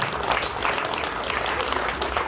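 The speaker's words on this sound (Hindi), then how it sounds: "आप लोगों की तालियां" Crowd applause at a Montfort Day celebration in Montfort Nagar, as flowers and a gift are presented: a brief, dense burst of many people clapping, steady and loud across the whole moment.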